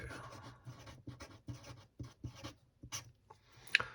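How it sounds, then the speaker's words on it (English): A pen scratches across paper in short, close strokes, writing a word in bursts with brief pauses between them, soft and quiet in a still room. "Let's just write up here. Monaco."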